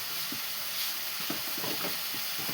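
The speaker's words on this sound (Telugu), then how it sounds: "కొంచెం ఒక ఇన్ని ధనియాలు చాలు. ఉత్త కళాయిలోనే వేస్తున్నాను." Coriander seeds dry-roast in a plain pan, giving a quiet continuous hiss with scattered light crackles and rattles as they are stirred, heard up close.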